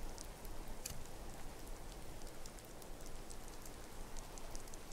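Steady rain falls in Skyrim near the Moorside Inn, a soft, even hiss with scattered droplet patter that runs unbroken throughout.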